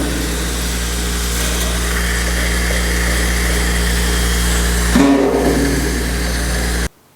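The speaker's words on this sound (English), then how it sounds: "I'm going to get that drill back in here and see if we can't get this area down in here." A drill spinning a Scotch-Brite pad strips paint from bare car metal in the tight nooks of a GTO restomod body, a loud, steady whirring grind running near-constant for about seven seconds, briefly harsher near the end before cutting off abruptly.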